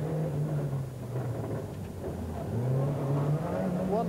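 A rally car races fast along a tarmac stage, its engine revving and shifting pitch as it charges past at moderate distance, with a faint voice underneath.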